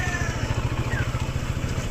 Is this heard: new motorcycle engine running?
yes